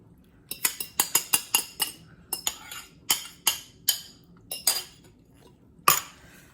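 Four eggs whisked in a bowl, a utensil clinking sharply against the bowl in quick rhythmic strokes that slow into spaced, ringing taps, close and bright.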